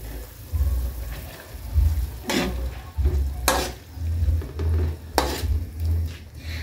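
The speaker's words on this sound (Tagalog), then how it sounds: "ang oyster sauce natin, guys, ilagay na natin" Sayote tops stir-fried in a pan with oyster sauce sizzle steadily while a utensil stirs and scrapes, with a few sharp metallic clinks against the pan.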